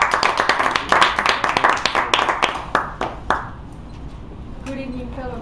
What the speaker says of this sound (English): please clap for Sun